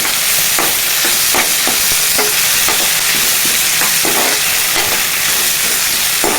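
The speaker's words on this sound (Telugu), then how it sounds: "గుప్పెడంత కరివేపాకు, గుప్పెడంత కొత్తిమీర వేసుకుంటే బాగుంటుందండి. కలుపుకోవాలి." Potato poha with handfuls of curry leaves and coriander gets stirred in a hot pan, a loud continuous sizzle and hiss punctuated by regular scraping strokes of the spoon, with no voice.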